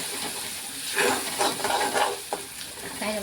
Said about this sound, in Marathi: आणि आता हा मसाला तेलामध्ये छान परतून घ्यायचा आहे